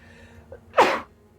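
A single close sneeze bursts out sharply after a faint intake of breath, loud and brief in a quiet room with no talk around it.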